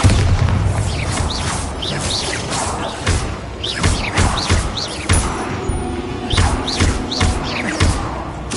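Bombarda spell explosions in Hogwarts Legacy, loud booming blasts and thuds repeating every second or so over the game's continuous background sound.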